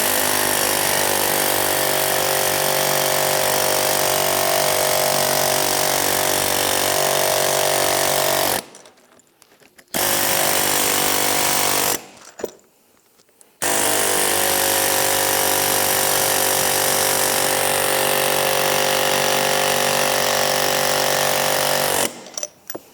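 Hardened steel finishing mower blade used as a tool to hammer a machete, giving a loud, continuous rapid pounding like a power hammer that runs in long bursts broken by two short pauses.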